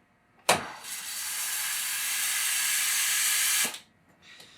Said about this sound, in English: So I'll just purge the wand.